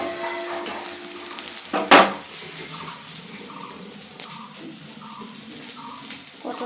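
Pointed gourd (potol) slices fry in a home kitchen pan with a steady soft sizzle, broken near the start by one sharp loud clatter, then continuing evenly at moderate level without talk.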